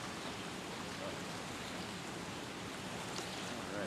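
Steady broadband rush of flowing river water filling the whole clip, constant and fairly near, with no other clear sounds.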